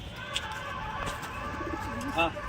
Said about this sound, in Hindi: ये कबूतर और कबूतरी दोनों साथ में है बहुत देर से।